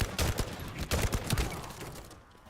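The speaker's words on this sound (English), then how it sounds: "He's shooting at baddies." Gunfire in the video game Fallout London: a quick volley of several sharp shots in the first half, then fading echoes and quiet.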